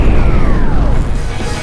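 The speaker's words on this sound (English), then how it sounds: "create massive explosions" A loud, rumbling video game magic explosion with a descending whistling tone sweeping down through it, dense and booming for about a second and a half.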